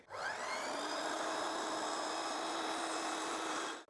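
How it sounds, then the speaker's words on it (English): A 12-inch saw cuts a front board for a planter at a 45-degree bevel, a loud, even motor whine that holds steady for a few seconds and then stops. "we're gonna cut one of our front boards right now"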